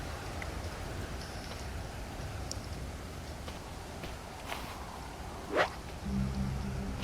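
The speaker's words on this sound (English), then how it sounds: "The rain has done a really good job at filling up my stills." Steady rain falling in the island survival game Stranded Deep, an even hiss of drops on surfaces held at a constant level throughout, with a brief sharper sound near the end.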